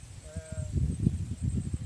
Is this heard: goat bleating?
yes